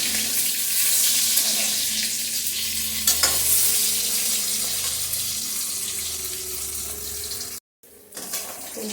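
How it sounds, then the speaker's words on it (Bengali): Three pieces of katla fish sizzle in a pan of hot oil, a steady, close, fairly loud hiss that runs on without a break and then cuts out briefly near the end. "এখন গাদার পিস নিয়েছি 3টে, এগুলো একটু বাকি রয়েছে ভাজা হতে"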